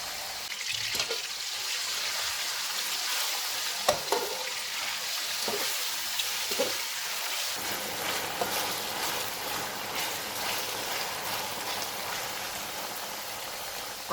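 Boneless chicken fries with garlic paste in a pan over medium heat, a steady loud sizzle with a few stirring scrapes and clatters, no voices.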